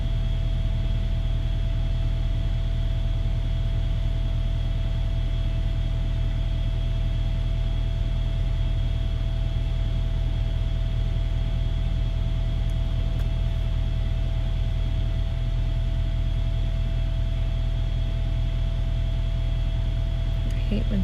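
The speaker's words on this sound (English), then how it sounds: "It's just the power inverter." A steady electrical hum with a constant tonal whine and low droning rumble, unchanging throughout, like an inverter running inside a vehicle.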